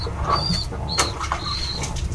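A pigeon flaps its wings on a rain-soaked roof, soft fluttering bursts over a steady wash of rain and background noise, with faint chirps here and there.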